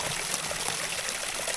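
Water trickles weakly from a village water source in a remote forest area, a steady soft hiss of thin flow with no talk over it.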